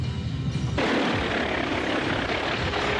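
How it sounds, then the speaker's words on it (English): Helicopter flying low right overhead above a trailer, a loud, broad rotor roar that swells suddenly after a brief quieter moment and then stays loud and steady. "Loud helicopter noise, sounded like it was right over the trailer."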